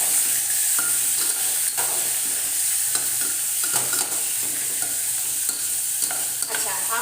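Marinated chicken sizzles steadily in a hot pan while a utensil stirs and scrapes through it at an irregular pace, close and continuous with no voices.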